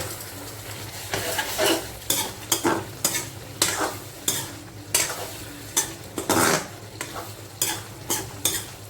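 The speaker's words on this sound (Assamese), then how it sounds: "দি মই এতিয়া এবাৰ লাহেকৈ লাৰি দিম।" A spoon scrapes and stirs through taro (kosu) curry with coriander paste in a hot pan, making repeated rhythmic strokes over a steady background sizzle, close and fairly loud with no speech.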